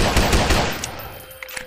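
Rapid gunfire from a video game pistol, several sharp shots in quick succession up front, then a few scattered single shots as the burst tails off.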